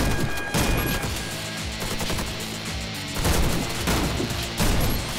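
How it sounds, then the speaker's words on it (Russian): Fabarm tactical pump-action shotgun firing in the shooter game Warface, with several heavy, booming shots and mechanical clatter in quick succession, loud and close, over a dense layer of game sound and no talk. "Это тактический дробовик, очень современный, эффективный."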